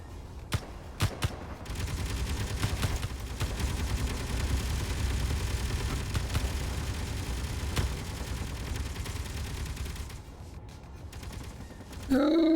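Gun turrets blaze away in a Nomad survival space game, a dense, sustained barrage of rapid fire that runs for most of the stretch before briefly easing and then surging again at the end.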